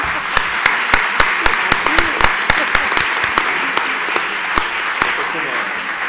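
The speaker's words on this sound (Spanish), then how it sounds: "recibámoslos con un fuerte aplauso para que se estimulen" Audience applause at a university lecture in a hall, welcoming the speakers: steady clapping with several sharp, distinct claps standing out near the mic, with murmured voices underneath throughout.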